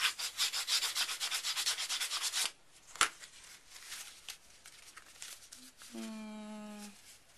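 Paper edge of a handmade mini album being burnished, a steady rapid rubbing for a couple of seconds, then a sharp tap and lighter scattered rubbing and handling sounds, close and fairly quiet.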